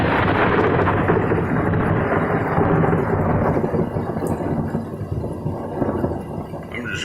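Thunder from a thunderstorm with cloud-to-ground lightning rumbles loud and close, a heavy sustained roll that slowly fades, with rain-like hiss throughout.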